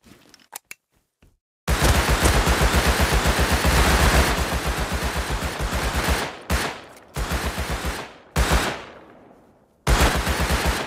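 Automatic gunfire in the console version of the video game Rust hammers out in long rapid bursts, loud and close. A few single shots come first, then sustained strings of fire broken by short pauses.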